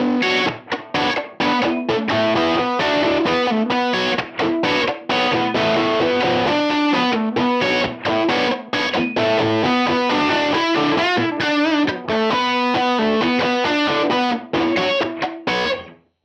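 Distorted electric guitar playing chords and melodic lines through a UAFX Lion '68 Super Lead amp with a room effect, giving a roomy, spacious reverb and a slight doubled sheen.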